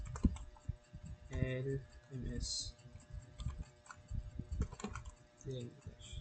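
Fast clicking keystrokes on a computer keyboard, close and fairly quiet, coming in short bursts under a person speaking throughout.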